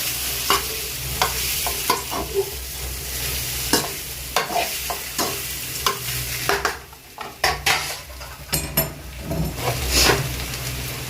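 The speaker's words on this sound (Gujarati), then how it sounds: "જે આપણે આ ઢોકળી બાફીને રેડી કરીને રાખી છે એને એડ કરી દઈશું. આપણે આ રીતે હલાવી દઈશું." Boiled dhokli, a gram-flour dough snack, being stirred in a pan: repeated close scraping and clacking strokes of a spoon against metal over a soft sizzle, irregular but steady throughout, with no voices.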